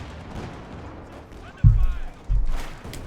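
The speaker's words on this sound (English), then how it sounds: "Shoots, good shot there for the Sherman's side armor." In Company of Heroes 2, a tank gun fires at an American Sherman, landing two deep, heavy booms about a second apart beneath steady match commentary.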